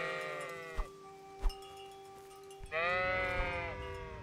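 Sheep in the video game Kingdom Come: Deliverance bleat twice, each a clear wavering call, over a low steady game hum with a couple of soft thuds between.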